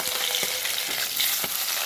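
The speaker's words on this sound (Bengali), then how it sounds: "এই দেখো কি সুন্দর মাছ দুটো ভাজছি একটু ফটফট করছে" Two hilsa fish fry in hot oil in a well-heated pan, producing a loud, continuous sizzle close by, broken by sharp spluttering pops at irregular intervals.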